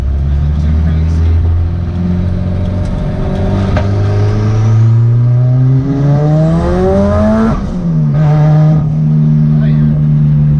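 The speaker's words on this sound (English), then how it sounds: "We'll just do probably like a second gear pull." A Mitsubishi Galant VR-4 engine pulls hard in second gear, the loud rising drone climbing steadily in pitch before dropping off and settling, heard from inside the car.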